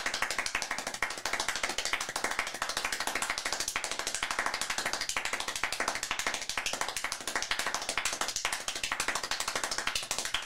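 Rapid hand clapping at a very fast, steady pace, a dense run of sharp slaps repeating evenly for about ten seconds, fairly close and with no talk.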